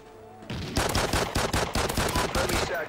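Rapid pistol gunfire in the Call of Duty: Ghosts video game rings out as about ten loud, sharp shots in quick succession after a brief quiet moment, with no talking.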